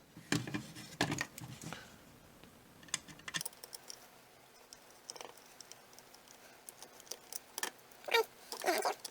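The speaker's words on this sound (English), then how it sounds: "we gotta undo a couple of screws on here." Small screws being undone with a screwdriver on an Xbox One controller, light irregular clicks, scrapes and ticks of plastic handling, close and quiet with brief gaps between bursts.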